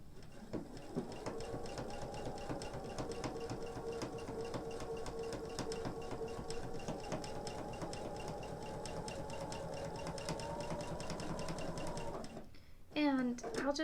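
A sewing machine fitted with a wide foot stitches raw edge applique on a green fabric leaf, a steady rapid mechanical whirring and ticking that runs continuously for about twelve seconds, then stops, followed by a brief voice.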